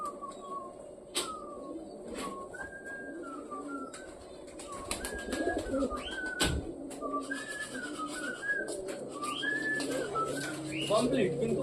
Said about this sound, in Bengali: অর্ধেকের বেশি পায়রা তো উপরে রয়েছে, নিচেই নামতে চাইছে না